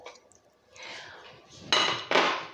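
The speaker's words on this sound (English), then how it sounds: "put two eggs in a big bowl" Two eggs go into a big bowl in a kitchen: soft handling noises, then two sharp close clinks and knocks against the bowl near the end.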